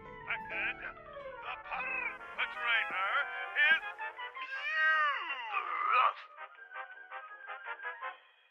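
A cat in the video game D4 meows repeatedly, with drawn-out, wavering cries and short chirps following one another closely, loud and clear against a silent background.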